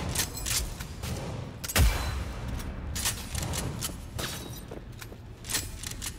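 A sniper rifle fires in the Cyberpunk 2077 video game: a few sharp, loud shots, one especially heavy, spaced a second or two apart among gameplay noise.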